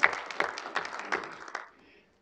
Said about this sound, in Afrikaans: Ja, hande klap asseblief.